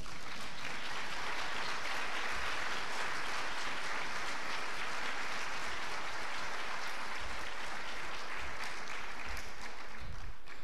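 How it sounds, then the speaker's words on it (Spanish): A church congregation claps for the Lord during a sermon, a long unbroken roar of many hands, steady and evenly loud throughout, with no speech rising above it. "Y dele un aplauso al Señor."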